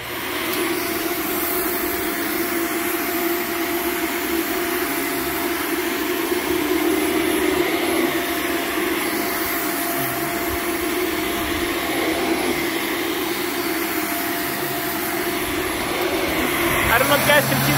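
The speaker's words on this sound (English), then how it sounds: "first I'm going to vacuum it with my Shark Vertex and my Kirby Avalier 2" Shark Vertex and Kirby Avalir 2 vacuum cleaners running over a dirty rug, a loud continuous motor whine and airflow roar sustained throughout, building slightly at the end.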